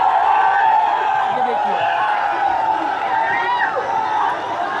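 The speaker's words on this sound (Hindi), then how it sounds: "भीड़ की स्थिति आप देख लीजिए, ये भीड़ आपको दिखा रहे हैं" Large crowd packed into the streets of Jaipur under heavy police security, a steady dense roar of many voices with shouts and chatter rising and falling throughout, loud and continuous.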